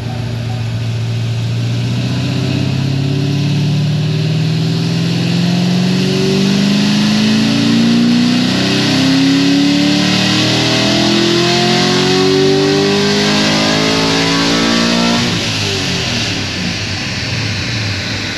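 A boosted car engine revs loud and close through a long wide-open pull, its pitch climbing steadily for about fifteen seconds before dropping off abruptly as the throttle lifts.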